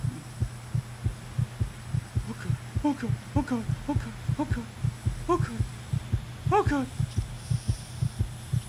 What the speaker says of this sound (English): My heart beating like crazy.